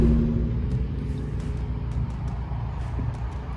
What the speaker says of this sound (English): My wheel bearing is super noisy, can you hear it?